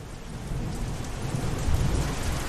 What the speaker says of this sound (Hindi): ऊपर से ही बारिशवा अलग ही दिमाग खराब कर रहा है।